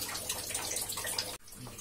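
More water splashed into a pan of egg curry, a short hissing pour that cuts off abruptly, followed by quieter simmering, with no talk.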